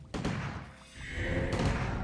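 Thunder Clap and Blizzard spells cast in a Warcraft 3 match: a heavy thud opens the clip, then a dense, crackling roar of icy impacts builds and sustains at close range.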